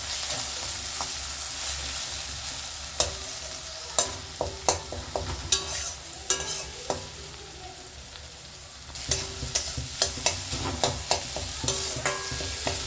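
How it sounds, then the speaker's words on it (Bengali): Tomato and egg fry in a pan for egg chow mein, a steady sizzle under repeated sharp scraping and stirring clicks from a utensil, close and fairly quiet with no talk. "এইবার ভেজে দিচ্ছি এটা"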